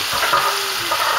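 Steady, dense sizzling of fried rice with red pepper frying in oil in a hot pan, close up and continuous, with faint scraping as it is stirred.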